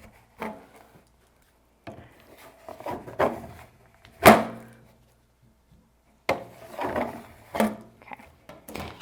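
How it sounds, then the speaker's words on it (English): Excess chocolate scraped off a mold, heard as short close scraping strokes in separate bursts with pauses of near silence, including one sharper knock partway through. "Now I'm going to scrape off the extra chocolate one more time."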